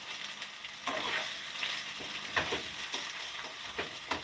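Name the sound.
sautéing saltfish, mango, peppers and onions in a pot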